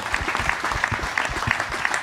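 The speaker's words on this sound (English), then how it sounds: "That's deserving of another round of applause," Audience applause at a space-exploration talk honoring a U.S. Astronaut Hall of Fame inductee, a dense steady wash of many hands clapping throughout, fairly close and full, with no voices over it.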